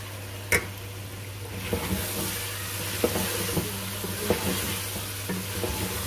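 Cumin seeds sizzle steadily in hot oil in a pan for keema aloo, with a continuous frying hiss and occasional soft scrapes of a spoon stirring.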